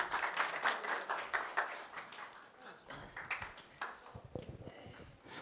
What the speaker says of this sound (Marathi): एकदा जोरात टाळ्या त्यांच्यासाठी